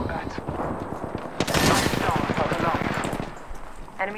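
Gunfire in the video game Apex Legends: dense bursts of automatic weapon fire with rapid repeated shots, loud and close, mixed with game sound effects.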